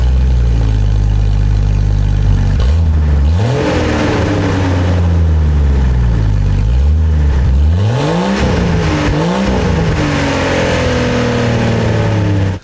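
A Jeep Cherokee XJ engine runs loud and close with its old exhaust removed, a rough, deep idle broken by several throttle blips that rise and fall in pitch.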